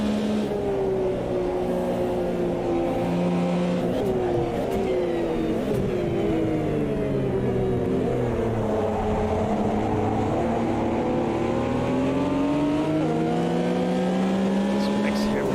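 A Porsche 911 RSR race car in Automobilista 2 drones at high revs. The engine pitch dips briefly as the throttle lifts for a corner, then climbs again at full power. It runs loud and continuous, with faint tyre noise and a commentator talking over it.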